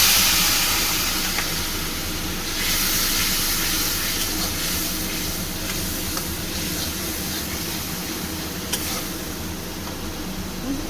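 Water goes into a hot pan of cumin and turmeric powder while a bottle gourd ghonto cooks, making a steady, close, broadband hiss and sizzle that lasts throughout with no talking.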